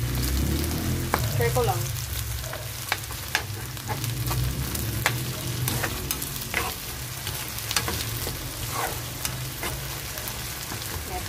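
Pork leg (pata) fries in a pan until crispy, crackling with a dense, steady sizzle broken by sharp pops and utensil clinks, close up, with a few words spoken over it.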